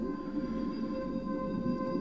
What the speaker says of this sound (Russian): Потому что насос заработал